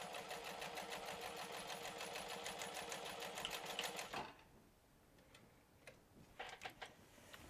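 Sewing machine stitching the seam of a fabric crossbody pouch, a fast even rattling run for about four seconds that stops abruptly, followed by a few scattered quiet clicks and handling sounds.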